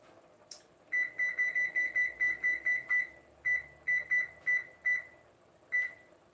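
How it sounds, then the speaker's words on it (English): A kitchen timer set in a home kitchen beeps in a rapid run of short, sharp electronic pips, then a few spaced beeps, close and clear with no talking. "I'm gonna start a timer"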